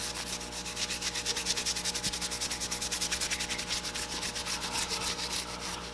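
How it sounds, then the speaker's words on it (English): Sandpaper rubs steadily over the burned, blackened wooden handle of a foam-prop axe, a close, loud, rhythmic back-and-forth scraping that keeps an even pulse throughout with no talking. "And the more you sand, the lighter it'll get."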